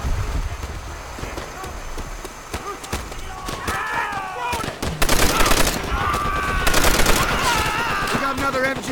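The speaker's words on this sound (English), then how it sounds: "We got another MG on our left flank." Machine-gun fire crackles through Call of Duty gameplay in rapid bursts that grow louder and denser partway through, while voices speak over the shooting.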